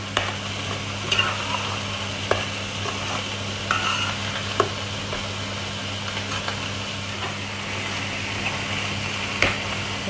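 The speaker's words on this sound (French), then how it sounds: "je rajoute la tomate et je vais mélanger tout ça et laisser mijoter" Peeled tomato stirred into ratatouille of peppers, onions, aubergines, courgettes and garlic in a pan, a low continuous simmering sizzle with scattered soft spoon clicks over a steady background hum.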